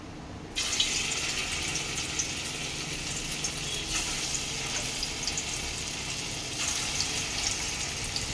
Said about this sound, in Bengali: তেলটা গরম হয়ে গেছে, আমি এবার একটা একটা করে পনির এতে দিয়ে দেবো আস্তে করে